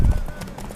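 Horse galloping in The Witcher 3, quick clip-clop hoofbeats with a low thud at the start, mixed with faint game ambience and voices nearby.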